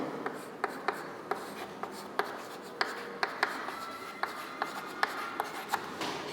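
Chalk or marker writing on a lecture board, a steady series of light tapping strokes and soft scratches at an even pace, fairly faint, with no talking over it.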